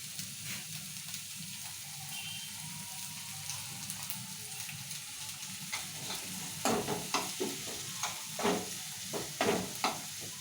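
Okra frying with onions and green chillies in a pan, a soft steady sizzle broken by irregular scraping stirs that grow louder and more frequent toward the end, close up with no talking.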